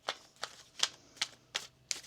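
Tarot cards are shuffled during a weekly reading, six crisp riffling bursts spaced at a steady rhythm, close and fairly quiet with no talk.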